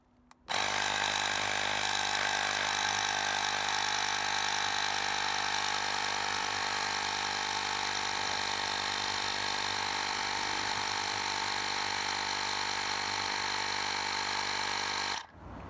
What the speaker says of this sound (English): it's that easy to inflate your tires with this portable inflator right here